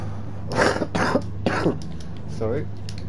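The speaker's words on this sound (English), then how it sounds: "Got a bit of a cough going on at the moment." Several harsh coughs and throat clearings in quick succession, loud and close to the microphone, with a low steady hum underneath.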